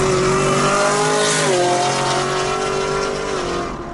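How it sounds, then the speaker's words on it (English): A 2017 Camaro ZL1 with long tube headers, glass packs and no catalytic converters gives a loud, steady exhaust drone with a low tone that shifts slightly midway, filling the whole clip with no talking. "you're not gonna get away with no drone. It's drone city in this car"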